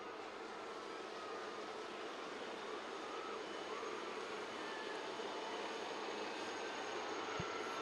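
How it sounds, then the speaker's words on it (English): A distant, steady roar of navy helicopters flying overhead in formation at a Navy Day demonstration off RK Beach, Visakhapatnam, broad and continuous without any voices. "Look to the skies on your left where you will see the formation of helicopters approaching."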